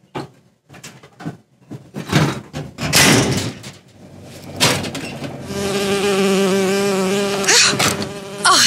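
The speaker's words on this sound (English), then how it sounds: "Oh, it's a bee. I hate these things." A bee buzzing in the video game BioShock Infinite, a droning insect whine that grows loud and sustained in the later part, after scattered thumps and clatter.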